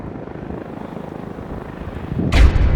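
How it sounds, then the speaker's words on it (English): Low, rhythmic rotor thumping of a helicopter circling overhead drones steadily, then a loud burst of noise close by near the end. "a helicopter is now circling the area"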